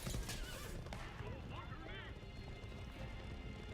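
Horse archers in the real-time strategy game Age of Empires IV whinny and gallop with steady hoofbeats, set under busy battle noise and a commentator's continuous talk.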